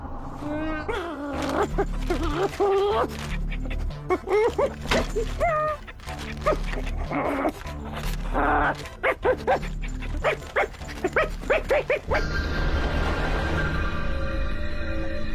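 A small cartoon dog barks and yips in short bursts in a French-dubbed Code Lyoko episode, its sounds mixed with animated dialogue, music and effects.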